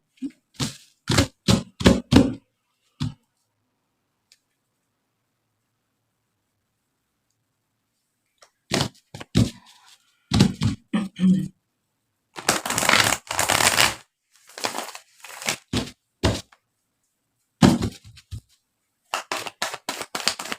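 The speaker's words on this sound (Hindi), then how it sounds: "एक शफल और कर दूँ।" Tarot cards are shuffled close up in quick riffling bursts of crisp flicks and taps, with long silent gaps between rounds and a dense, louder shuffle in the middle.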